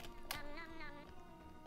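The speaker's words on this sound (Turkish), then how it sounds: "Aha, kedi geliyor." Game cat meowing in the Roblox game Cat Attack, a short wavering meow rising over steady background game music, fairly clear and close.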